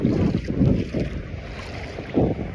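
Dry sea wind blowing in along a Lao coastline, buffeting the microphone in heavy low gusts that surge and ease repeatedly, loud and close, with no clear voices.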